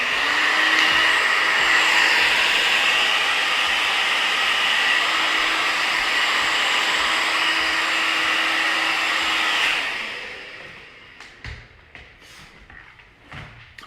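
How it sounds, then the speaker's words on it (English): A blow dryer runs steadily and loudly, drying hair after a short layered bob haircut, then cuts off, leaving quiet handling knocks and taps. "the whole boring damn blow dryer thing"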